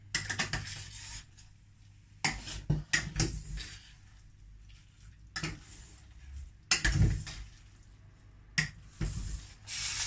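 Sweet and sour chicken stirred in a pan, with irregular scraping and clattering strokes of a utensil against the pan separated by quiet gaps and a faint sizzle underneath, up close.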